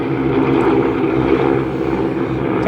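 Propeller airplanes fly overhead in a garden where green beans grow, a loud, steady engine drone holding for the whole stretch.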